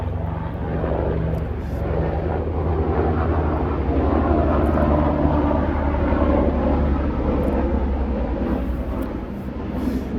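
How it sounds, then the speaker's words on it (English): A propeller airplane passes overhead outdoors near the Culver City steps, a loud steady engine drone that swells slightly and then eases off over about ten seconds, with no voices. "I let this plane pass by."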